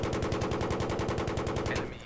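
Rapid automatic gunfire in Battlefield 3 on the Gulf of Oman map, a steady stream of loud, close shots in even rhythm for about two seconds before it stops abruptly.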